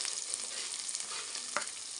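Onion, green chili and curry leaves frying in a pan for a Telugu brinjal and chana dal masala curry, a steady close, loud sizzle with a brief stir or scrape partway through, no talking.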